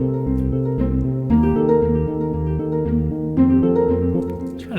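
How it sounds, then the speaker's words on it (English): A continuous dreamy synth tone from a film-score remake with stock plugins, a warm sustained pad with a gently running, pulsing motion inside it, shifting chords every second or so and playing alone at steady volume. "continuous dreamy tone with a little of sort of like running feeling about it"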